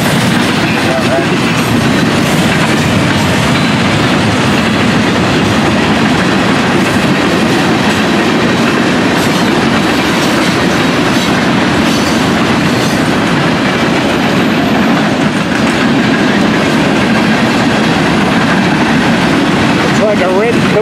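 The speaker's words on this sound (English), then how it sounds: "Like a red caboose down there on the bottom of this train." A freight train with a red caboose rumbles steadily past up close, wheels clacking over the rails in a continuous loud roar throughout.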